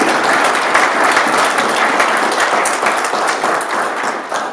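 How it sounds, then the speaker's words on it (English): Loud, sustained applause from a large symposium audience, thick continuous clapping that gradually tapers off at the end. "So a big round of applause for everybody who"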